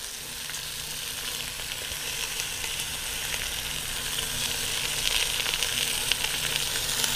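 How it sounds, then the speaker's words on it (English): Onions hitting a hot pan beside a browned roast sizzle steadily and loudly for the whole stretch, a dense frying hiss with faint stirring scrapes, no voices. "All right, now we're gonna add some onions."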